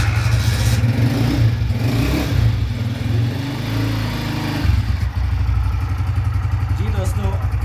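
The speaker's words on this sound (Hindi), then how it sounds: "बाइक हमारा स्टार्ट है। ये इसका स्लो साउंड है।" A Honda CG 125 motorcycle engine runs steadily at a low idle after starting, loud and close, with a rough mechanical chug throughout.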